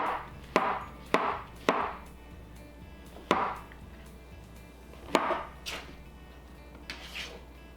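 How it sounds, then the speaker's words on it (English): A knife slices through cremini mushrooms on a cutting board, giving about seven separate sharp chops with uneven gaps, close and clear with no talk. "And I'm gonna slice up this mushroom."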